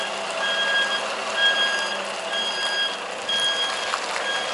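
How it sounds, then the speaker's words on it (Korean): A truck backs into a narrow alley barely wide enough for a car, its reversing alarm beeping in a steady repeating rhythm, loud and close over a constant engine and road hiss. "승용차 한 대가 겨우 지나갈 좁은 골목길을 그것도 후진으로 한 번에 진입한다"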